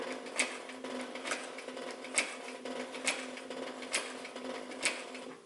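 A Singer 111W industrial walking foot sewing machine stitching at a moderate speed, with steady mechanical clacking and regular sharp needle strikes about once a second over a continuous motor hum, close and alone.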